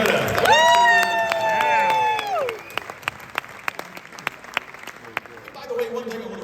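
At a speakers' hall of fame induction, a loud sustained whoop or cheer rings out over crowd noise, then gives way to scattered individual claps spaced out across the room.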